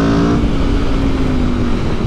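A 2021 Aprilia RSV4 Factory motorcycle engine pulls hard under acceleration, a loud, continuous, close throaty roar with steady high revs and wind rush throughout.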